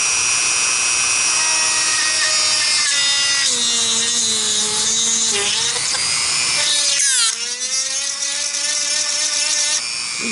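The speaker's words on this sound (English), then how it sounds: "I'm going to drill a little bit larger hole" A drill bores a slightly larger hole into the hand of a small whittled wooden carpenter figure, its loud whining motor running steadily with pitch dips as the bit bites, close up throughout.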